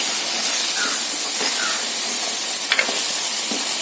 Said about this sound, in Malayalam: ഇനി നമുക്ക് ചെറുതായിട്ടൊന്ന് ഇളക്കാം.